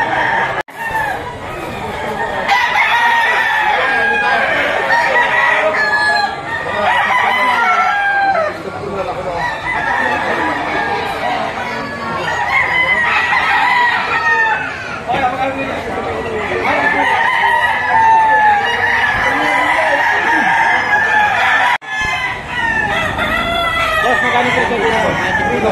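Roosters crow repeatedly amid clucking hens at a crowded poultry market in Lipa, Batangas, a loud unbroken chorus of fowl with people talking and chattering underneath.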